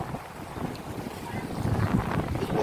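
Strong wind blows by clear blue sea water, roaring continuously across the microphone with rising gusts toward the end, and a voice is faintly present.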